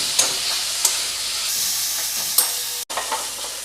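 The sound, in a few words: frying kochu shak with sugar in a pan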